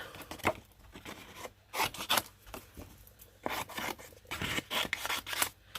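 Scissors snip through card stock while making handmade stamped cards: several crisp cuts in irregular bursts, close by and fairly quiet, with soft papery rustling between them.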